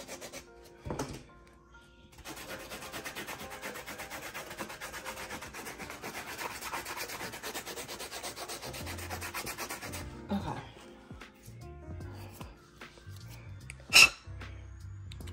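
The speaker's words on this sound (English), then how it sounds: "We're gonna take our sanding block." A sanding block rubs along the edges of a resin glitter pen to smooth them, making a continuous close scraping for several seconds, followed by quieter handling and a sharp click.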